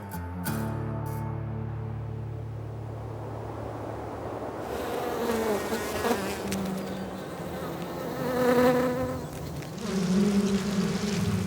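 Dense buzzing of a honey bee colony of about 40,000 bees, a droning hum that swells louder toward the end, with a low engine-like tone at the start.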